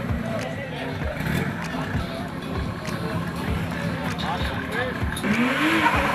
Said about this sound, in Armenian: Ահա նրանք պատրաստում են ավտոմեքենաները մեկնարկին։